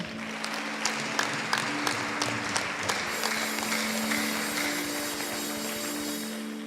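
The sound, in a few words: audience applause in church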